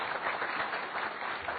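Audience applause, a dense wash of clapping that holds steady for a short burst with no individual claps standing out.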